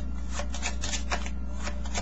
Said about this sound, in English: I'm just doing the overhand shuffle because it's a lot easier